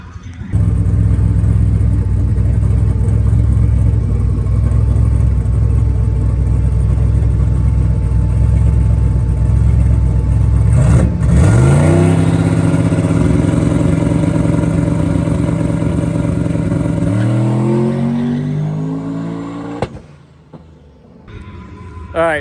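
A turbocharged V8 Chevrolet Colorado pickup idles with a loud, deep rumble, then roars up through rising revs on a drag strip test pass and fades away with a pop at the end.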